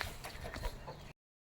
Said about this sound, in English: The chickens are still enjoying freedom.